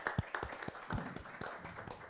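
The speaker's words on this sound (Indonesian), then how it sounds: "Tepuk tangan buat Om Ganif." A few people clap for a guest, Om Ganif, an architect, at a casual talk-show recording, giving sparse, irregular hand claps that sound close but quiet.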